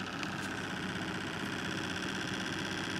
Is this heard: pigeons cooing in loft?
no